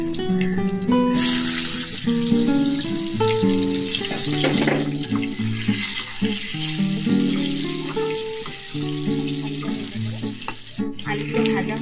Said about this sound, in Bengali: তেলটার মধ্যে আমি আলুটা ভেজে দেবো।